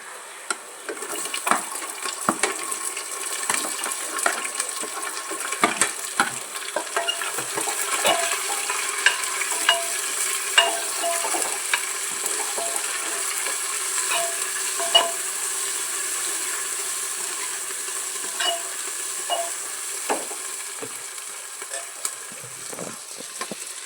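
Garlic and onions sizzle steadily in a hot pan, a continuous frying hiss broken by frequent scrapes and taps of a spoon stirring, close and fairly loud throughout with no voices.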